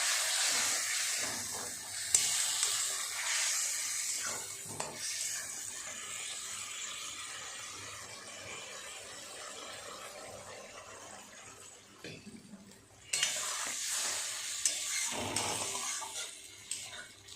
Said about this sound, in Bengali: মশলার বাটি ধোয়া জলটা দিয়ে দেবে